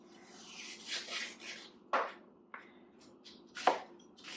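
Garlic being peeled on a cutting board: soft rustling and papery rubbing, broken by several sharp, close knocks and scrapes against the board, with quiet gaps between.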